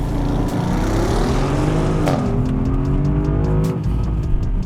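A 2024 Porsche Cayenne S with its V8 launching hard under launch control, a loud continuous engine roar climbing steadily through the gears with brief shift dips, close and dominant throughout.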